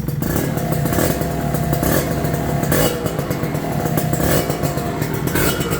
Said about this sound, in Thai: มาฟังเสียง KR บ้าง